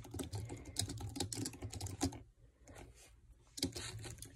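A computer keyboard being typed on as a name is entered, with quick bursts of close, quiet key clicks, a short pause midway, then another flurry of keystrokes.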